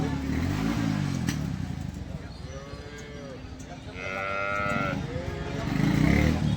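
Cows low in drawn-out moos at a cattle market in Sangola, over a busy outdoor background with passing engine noise and distant voices.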